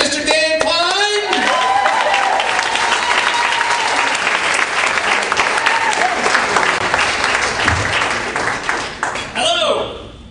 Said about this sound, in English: Make some noise for Mr. Dan Klein